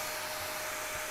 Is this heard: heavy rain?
no